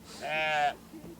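A single sheep bleats on a farm in a short, clear, wavering call, followed by a faint brief murmur.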